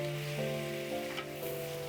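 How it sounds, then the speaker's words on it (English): Hot vegetable broth ladled into risotto rice in a pan for a butternut squash risotto, giving a steady close sizzle and faint stirring with brief swishes, no talking. "start slowly adding the liquid ingredients, beginning with 1/2 cup of white wine and 5 to 6 cups of hot vegetable broth"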